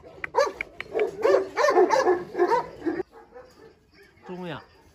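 Dogs at a Rottweiler breeding kennel give a run of loud, close barks and yips in the first three seconds, then go quieter, with a short whine-like call near the end and people talking nearby.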